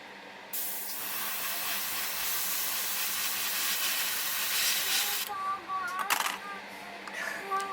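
An airbrush fires a test spray of paint while masking a model starship's nacelles, giving a steady close hiss for about five seconds, then a few shorter sputtering bursts.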